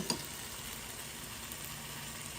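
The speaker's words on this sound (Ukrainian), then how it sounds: "І одночасно будемо смажити картопля фрі" Potatoes for french fries fry in a pan on a Luxor SCHOTT CERAN ceramic hob, a faint, steady hiss of sizzling oil with a small pop at the start and no voices.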